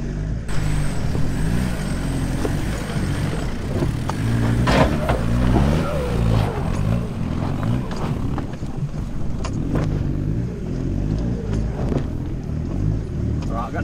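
An off-road 4WD engine strains and revs on a steep climb in a mountain park, with the clutch being worked hard; a continuous rumbling drone with surges, under frequent voices talking in the cab.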